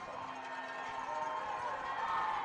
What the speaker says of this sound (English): And the crowd, you can hear it. It's loud.